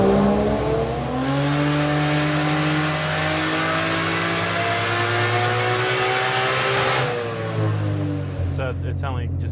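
A Toyota Cresta on a hub dyno revs hard in third gear, the loud engine note climbing steadily for several seconds before dropping away sharply near the end.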